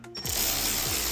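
A ratchet clicks a few times tightening the clamp on the engine air filter housing of a 3.0T Audi B9 S4, followed by a steady loud whooshing noise.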